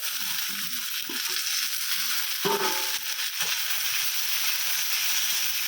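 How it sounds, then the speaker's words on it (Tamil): Tomatoes with onion, garlic and green chili sauté in a pan for a Ramnad-style kalani thanni kuzhambu, giving a steady close sizzle with a few soft stirring scrapes and clinks. "நல்லா வதக்கி விடணும். தக்காளி நல்லா வதங்கணும்."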